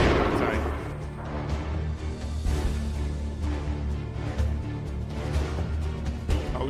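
Gunfire shooting from a distance in a video game, heard as muffled, low booms and pops scattered irregularly under a steady, dense background rumble.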